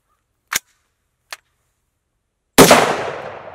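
Shots ring out on a farm, two short sharp cracks followed by a much louder blast that echoes and fades slowly, with silence between them.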